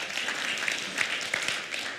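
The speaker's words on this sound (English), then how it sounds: "We're clapping today." An audience at a livestreamed Lent gathering claps in a brief, steady burst of applause, heard faintly and somewhat distant.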